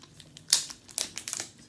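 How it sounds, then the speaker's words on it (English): Plastic film is peeled and unwrapped from an iPhone 12 Pro box in a quick, close crinkle with a few sharp crackles and short tearing rustles, and no one speaks. "let's go ahead and unwrap this"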